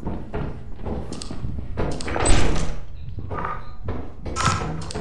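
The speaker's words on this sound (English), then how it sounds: "God, I hate the sound of those doors." Doors in the video game Lethal Company thud and slide shut in a repeated series of heavy, close, booming knocks and scrapes, with no talking over them.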